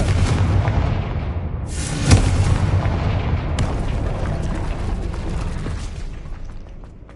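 A Confringo fire spell explodes in the Hogwarts Legacy video game, with a sharp booming blast early on standing out from a dense, continuous roar of rumbling game noise that tapers off toward the end.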